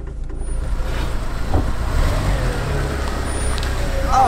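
A Jeep Wrangler crawls along in four-wheel-drive low range. Its engine holds a steady, close rumble with a slight rise in revs, loud and continuous for a few seconds.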